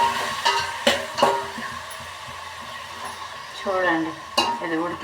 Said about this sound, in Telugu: ఉల్లిగడ్డ వేస్తున్నాను, దాని తర్వాత టమాటా వేస్తున్నాను.